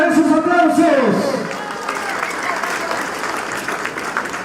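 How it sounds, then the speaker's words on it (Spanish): An audience at a regional government public accountability hearing in Apurímac applauds. Broad clapping and crowd noise follow a brief voice at the start, then continue steadily at moderate loudness. "Muchísimas gracias, esos aplausos."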